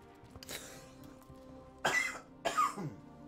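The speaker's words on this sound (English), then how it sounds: "that's what a cold does. Makes you cough." Someone with a cold coughs twice close by while playing Destiny 2, two short raspy bursts about half a second apart, after a quieter stretch.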